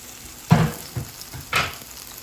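Potatoes sauté in plenty of oil with seasoning, making three brief scraping stirs with a light sizzle between them, close and fairly loud, no one speaking.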